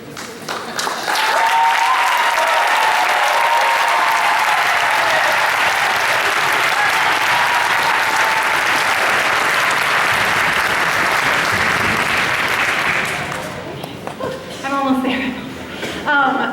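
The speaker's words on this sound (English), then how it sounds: "you can clap for them one more time" Audience applause for eighth grade orchestra students at a spring school concert, a steady, full crowd clapping for about thirteen seconds with a whistle or cheer, then fading as a speaker begins talking.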